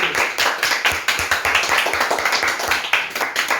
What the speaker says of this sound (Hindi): इनका स्वागत तालियों की गड़गड़ाहट से होना चाहिए।